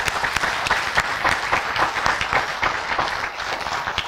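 A round of applause from a conference audience for its contributors, many hands clapping in a busy, slightly uneven patter that holds steady throughout at moderate loudness.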